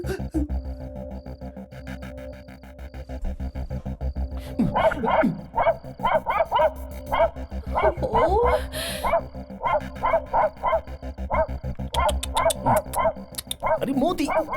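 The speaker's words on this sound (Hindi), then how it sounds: "ये कुत्ता वहां देखकर भौंक क्यों रहा है?" A dog barks repeatedly in short bursts at a house in a South Indian action drama, mixed under dialogue and background music, with the barking clustered in the second half.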